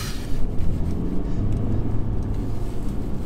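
A 2015 Mercedes-Benz C220 (Cat S) engine revs with gears held manually in Sport Plus mode with traction off on a B road, a steady, loud low rumble from inside the cabin with no talk.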